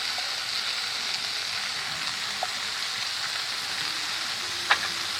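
Meat frying in oil with garlic paste, ginger paste and softened onion gives a steady close sizzle, with a couple of faint clicks and one sharp utensil knock near the end, no talking.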